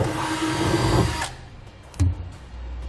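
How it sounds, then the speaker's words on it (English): A small drill bit boring a pilot hole in the truck bed of a 2017 Ram 2500 for a B and W Companion fifth-wheel hitch: a steady high-pitched drill whine that stops abruptly partway, followed by a brief clunk and low handling noise. "we'll now make a pilot hole using a small drill bit."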